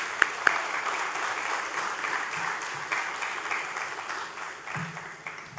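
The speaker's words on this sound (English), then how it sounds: "Yes, they deserve an applause." Audience applause at a school graduation ceremony, steady broad clapping from a large crowd throughout, with a couple of sharp louder claps near the start and faint voices mixed in.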